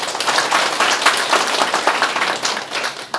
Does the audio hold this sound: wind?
no